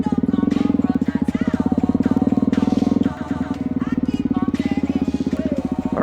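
Honda CRF250L dirt bike revving hard during a wheelie in a parking lot, a loud close engine note with a steady pulsing roar that dips briefly midway, then climbs again.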